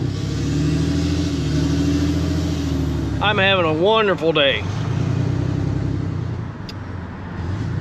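A ranch truck's engine hums steadily and close throughout the drive, with someone talking over it partway through.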